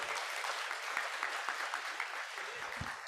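Audience applause at a college ribbon-cutting inauguration ceremony, a steady wash of clapping with a few sharper individual claps standing out, moderately faint and continuous.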